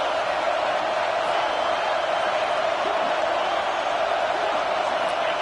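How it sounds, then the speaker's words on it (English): Stadium crowd roaring steadily in an NCAA football video game, a broad continuous wash of cheering that stays loud and even throughout with no distinct voices standing out. "This crowd rising up, sensing that its defense needs some help."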